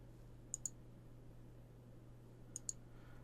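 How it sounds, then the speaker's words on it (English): A computer mouse clicked while texturing a 3D model, two quick double clicks about two seconds apart, close and faint over a low steady hum. "I'm clicking down here, but I'm actually looking over here at this color swatch"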